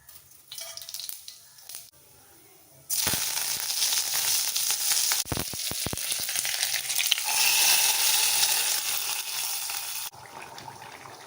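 Mustard seeds and curry leaves hiss and sizzle loudly in hot oil, with a burst of sharp crackles, after a quieter start and before the sound drops away.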